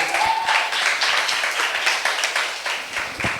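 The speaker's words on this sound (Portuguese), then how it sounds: "E uma salva de palmas aí para o Senhor Jesus." Church congregation clapping in praise of Jesus during a Portuguese-language Bible class on the blood covenant, a steady dense patter of many hands filling the room throughout with a brief voice near the start.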